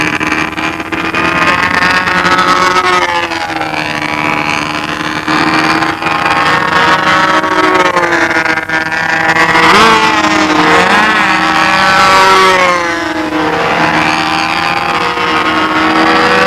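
Engines at a windy 1999 fall contest drone loudly and continuously, their pitch sliding up and down as they rev, with no speech over them.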